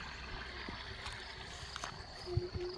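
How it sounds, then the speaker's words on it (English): Water pours down into deep crevices in a largely dried-up river bed, a faint, steady rushing with a few soft low gurgles and no talk. "Yeah, you can hear it pouring down into a deep hole."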